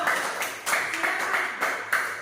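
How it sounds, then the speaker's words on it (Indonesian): A class claps for a student group after its presentation: a short burst of fairly close, rhythmic clapping with sharp, evenly spaced peaks. "kita tepuk tangan untuk kelompok 2"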